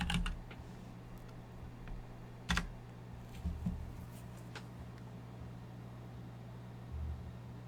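Sparse computer keyboard keystrokes and a few sharper key taps, close and quiet over a steady low hum, with long gaps between presses.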